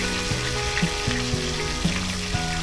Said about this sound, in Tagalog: ipiprito naman natin ang tilapia